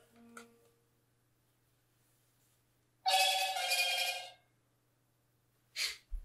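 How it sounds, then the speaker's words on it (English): A telephone ringtone sounds in a quiet workshop during a Takahashi 106 telescope build, with one clear bright ring burst, a faint earlier click and a brief later sound. "That's the phone."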